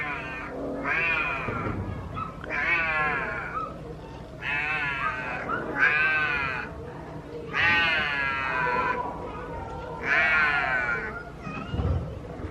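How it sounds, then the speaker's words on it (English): A wildcat at a wildlife park yowls in a series of long, wavering, cat-like wails, about six drawn-out calls spaced a second or two apart, loud and close, with faint background murmur. "that wildcat is going nuts"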